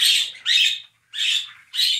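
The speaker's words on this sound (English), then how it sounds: "let's say hi to the birds." Bright, high bird chirps come in four loud bursts with short gaps between, close by and with no voices.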